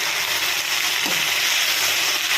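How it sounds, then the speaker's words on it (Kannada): Fenugreek leaves frying with garlic in a pan give a steady, fairly loud broadband sizzle and hiss that runs unbroken throughout, with a faint stir near the middle. "ಚೆನ್ನಾಗಿ ಫ್ರೈ ಮಾಡ್ಕೊಳ್ಳೋಣ."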